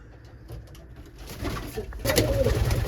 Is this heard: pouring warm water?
no